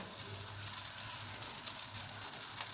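A bay leaf dropped into hot oil for winter sona moong dal khichuri gives a soft, steady sizzle with a constant hiss throughout, fairly quiet.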